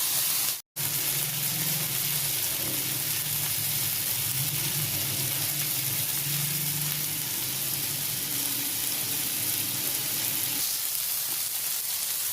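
Vegetables with turmeric and salt frying in a pan ahead of adding egg, a continuous even sizzle with soft stirring, broken by one brief dropout near the start.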